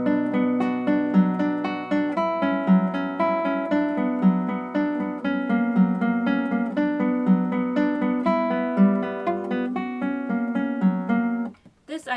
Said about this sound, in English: This I try to play every single note at an equal volume.